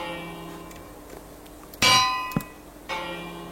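Bells rung in Minecraft, set up with sensors in a weather-themed world: a bright clanging strike near the middle, a smaller ding shortly after, then another ringing tone toward the end over a quiet hum.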